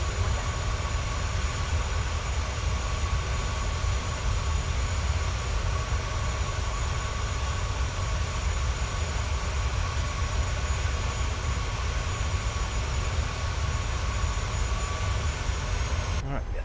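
Jet engines of a Ryanair PMDG Boeing 737-800 in Microsoft Flight Simulator 2024 hold a steady, loud broadband roar with a faint whine, continuous throughout with no clear spoolup, ending abruptly.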